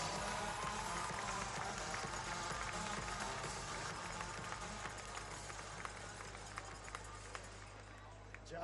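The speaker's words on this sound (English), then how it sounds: "I want you to give a big round of applause and a big cheer" Crowd at a Tour Down Under stage giving a big round of applause and cheers for the new race leader Jay Vine, a dense, steady roar of clapping and cheering that fades slightly toward the end.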